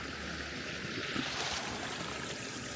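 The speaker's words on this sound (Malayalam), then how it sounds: "ഇവിടുന്ന് വെള്ളം ഒഴുകിയിട്ട് ഈ മുക്കടായി തോടിൽ വന്ന് ചാടുന്നു." Stream water pours steadily into the Mukkadayi stream near Malayattoor, making a constant broadband rush that stays even and moderately loud, with no voices.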